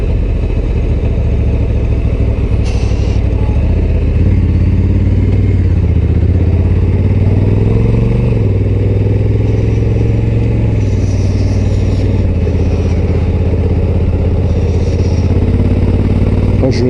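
A Honda Africa Twin Adventure Sports motorcycle ridden up a mountain pass road, its engine droning loud and steady with rising and falling revs, wind noise and a rider talking over it.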